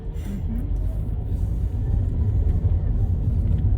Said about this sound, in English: All the wonderful noises that you get with an older car.